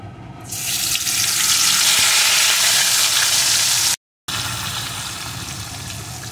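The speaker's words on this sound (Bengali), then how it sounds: "এখন আমি লবণ হলুদ মাখানো মাছগুলোকে এর ভিতরে দিয়ে প্রথমে ভেজে নেব।" Rohu fish pieces rubbed with salt and turmeric frying in hot mustard oil, a loud steady sizzle that starts abruptly and continues throughout with a brief cut, no talking.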